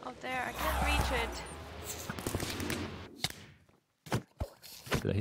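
A Minecraft firework rocket goes off in the game world with several sharp, punchy bangs in quick succession, following a stretch where a player talks over the game sounds.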